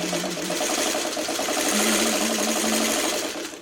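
A sewing machine runs steadily, stitching quilt fabric pieces together in one continuous mechanical whir with a fast needle rhythm, close and loud, with no talk.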